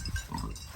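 A pig named Newt grunts close by while sniffing the ground where a dog is buried, with short low snorting grunts over about a second and no talking.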